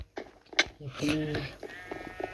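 A Minecraft sheep gives a short nasal bleat, near and clear, amid a mother and child chatting over quiet game sounds.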